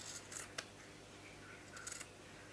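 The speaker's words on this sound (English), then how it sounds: "So I will cut off some scraps here." Scissors snip fabric curtain scraps in a few quick, faint cuts, a short burst early and another cluster near the end, close but quiet with no talking.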